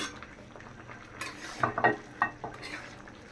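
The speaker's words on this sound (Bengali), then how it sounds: "মাংসটা ভাজা হয়ে গেছে আর সবজিটাও অনেকটা সিদ্ধ হয়ে গেছে এখন আমি মাংসটা সবজির মধ্যে দিয়ে দিতেছি" Meat stir-fried with vegetables for a Chinese-style dish gives a soft sizzle under a few clattering scrapes of a utensil against the pan, quiet and close, without speech.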